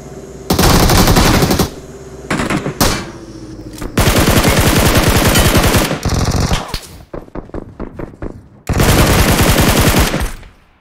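Loud automatic gunfire in the mobile battle royale game PUBG Mobile, long sustained bursts of rapid shots separated by brief gaps, with a few slower single shots in between, very close and dominant.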